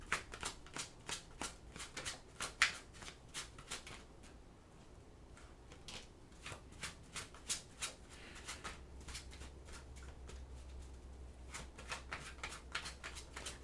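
Tarot cards are shuffled by hand in quick riffling bursts of crisp flicks and taps, close and fairly soft, with a low hum underneath and no talking.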